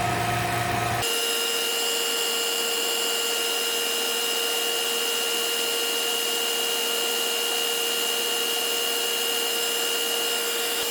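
A vacuum pump with a Pirani gauge attached runs at a loud, constant drone with steady whining tones. After a brief shift at the start, it holds unchanged from start to finish with no voices.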